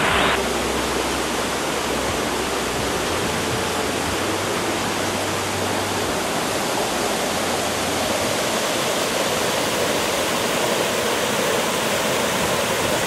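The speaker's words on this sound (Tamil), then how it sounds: "தேவாலாவில் உற்பத்தியாகிற பாண்டியாற்றினுடைய தண்ணீர் இந்த வழியாக வந்து இப்படியே போய்" Pandiyar river water rushing steadily, a continuous broadband roar of flowing stream water heard close up, loud and unbroken with no voices.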